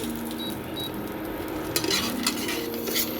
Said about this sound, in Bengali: বাদামটা ভেজে নিচ্ছি আমি